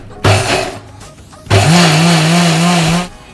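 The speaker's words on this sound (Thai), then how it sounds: "หลังจากนั้นก็ปั่นได้เลยจ้า" A blender grinding turmeric with a little water into spice paste for Ayam Asam Pedas chicken curry runs in a short loud burst, stops, then whirs again for about a second and a half at close range.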